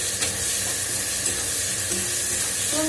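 Onions fry in a pan with a pinch of salt, a steady close sizzle and hiss with faint stirring scrapes and no voices.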